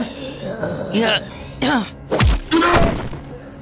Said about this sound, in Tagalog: At agad tinadyakan ni Ali ang estudyanteng duguan ang muka na tila may kumagat dito.